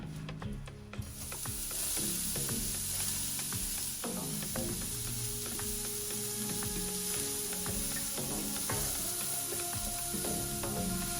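Onions fry in about a tablespoon of annatto oil for an Ecuadorian chicken stew, giving a steady, close sizzle over its whole length, with scattered clinks and scrapes of stirring and no talking.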